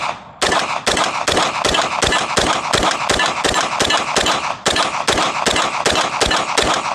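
A Sig MPX K or CZ Scorpion EVO 3 Micro fires a rapid burst of sharp, loud shots outdoors at a range. The shots come in a fast, even string of about twenty, with one brief pause partway through.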